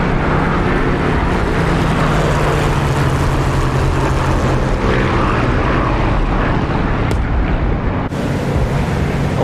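Low-flying Spitfires in the DCS flight simulator, a loud continuous propeller-engine roar with heavy rumble filling the whole stretch, one or two sharp cracks near the end, no speech.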